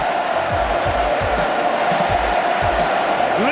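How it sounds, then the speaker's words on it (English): Stadium crowd at an Australian football match, a loud sustained roar of cheering filling the space, with the commentator's speech voice rising over it. "Listen to the crowd."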